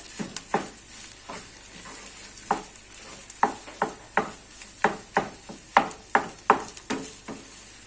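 Potatoes with chili flakes sauté in a pan while a spatula stirs them, giving a soft sizzle broken by regular scraping clacks roughly every half second, close and clear.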